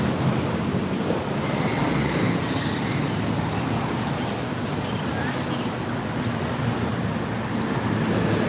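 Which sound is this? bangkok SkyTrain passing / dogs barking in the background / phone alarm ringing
bangkok SkyTrain passing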